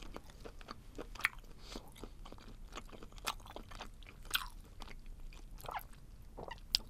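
Someone chews spicy stir-fried short arm octopus up close, with repeated moist, chewy bites and smacking sounds in an irregular rhythm, quiet and without talking.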